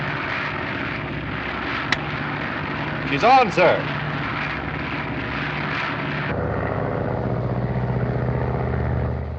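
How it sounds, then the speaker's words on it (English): An airplane engine drones steadily through the scene of a 1937 film as a plane flies under radio control, with a brief spoken line and radio chatter over it. "The plane is now under radio control from the board here."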